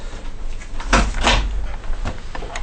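Firm knocks on a house door, two loud close raps followed by a couple of softer taps, alone with no talk.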